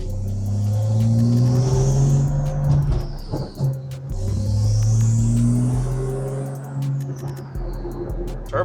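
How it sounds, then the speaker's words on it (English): A turbocharged supercar on stock turbos pulls hard twice, each time with a deep engine roar climbing in pitch under a rising turbo whistle, followed by a brief lift off the throttle between the runs. "Turbo sound insane on it too."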